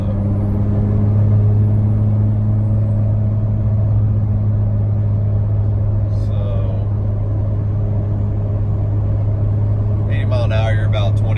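Steady low drone and road rumble inside a 2014 Ram 2500 Cummins diesel pickup with an S465 turbo cruising around 75 mph on the highway, constant and loud throughout with brief faint sounds near the end.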